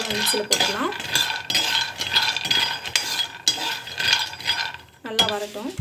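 A spoon scrapes again and again against a pan as ingredients for dry fruit laddu are dry roasted, with clinks of metal and a faint sizzle beneath.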